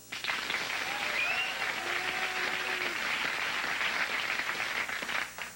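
Audience applause at a stand-up comedy show: sustained, dense clapping from a crowd that fills the whole stretch at a steady level, with a few brief whistle-like tones rising above it.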